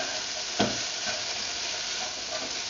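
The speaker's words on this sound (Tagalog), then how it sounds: "After 5 minutes of simmering, give it a stir." Okra with dried shrimp, simmering in a pan for a Filipino stir-fried dish, gets a stir: one soft scrape stands out early over a quiet, steady low sizzle.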